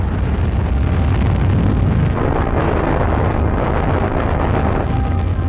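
A hydrogen-oxygen rocket engine with 2 million pounds of thrust roars at launch, a deep, loud, unbroken rumble that holds steady throughout.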